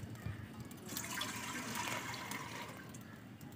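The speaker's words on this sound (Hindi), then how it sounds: "और इसमें पानी डालेंगे" Water is poured into a cooking pot to boil for sweet vermicelli, a soft, steady splashing stream heard up close for a few seconds.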